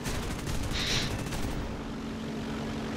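Machine gun fire from an aircraft tail gunner in War Thunder: a fast rattling burst sits over the steady roar of a piston fighter's engine. The firing stops partway through while the engine drone carries on.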